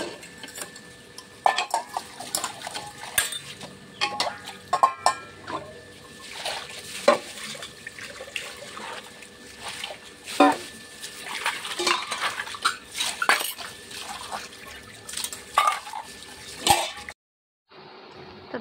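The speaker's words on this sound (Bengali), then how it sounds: "সাথে কয়টা বাসন আছে, এগুলো ধুয়ে নেব।" Dishes and utensils washed by hand, with frequent clinks and clatters of metal pots and cutlery, splashing water and scrubbing in uneven bursts, close and fairly loud, then a sudden near-silence at the very end.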